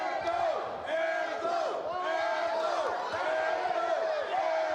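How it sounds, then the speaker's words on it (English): A caged MMA fight crowd at Fury 113 roars wildly, with rhythmic chanting shouts and hollering swelling repeatedly over a continuous dense wall of voices. "Man, this crowd is going crazy"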